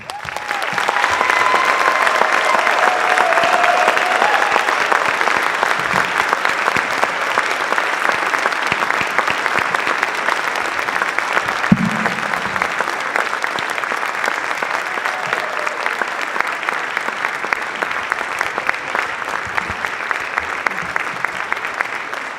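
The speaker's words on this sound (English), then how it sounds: "They certainly deserve a hearty round of applause." A large audience applauds steadily at a high school National Honor Society induction ceremony, a dense, sustained wash of clapping that holds its level throughout with no talk.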